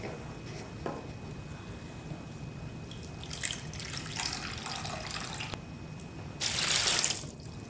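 Water from a tap runs and splashes into a container for a blood model science activity, faint and close, with a louder gush near the end.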